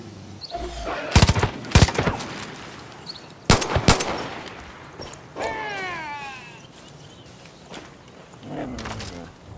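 Gunfire in the video game Far Cry New Dawn: several sharp, loud shots and short bursts ring out close by, with an animal-like growling cry in between over a steady ambient bed.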